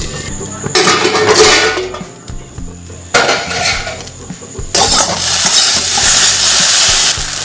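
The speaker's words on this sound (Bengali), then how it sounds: "চায়ের পর ভেন্ডি ভাজাটা বসিয়ে দিলাম আর ভেন্ডি ভাজাটা হতে হতে চাটা খেয়ে নিচ্ছি।" Okra (bhindi) frying in a pan gives a steady sizzle, broken by repeated scraping and clattering of a utensil against the pan in loud bursts. There is no speech.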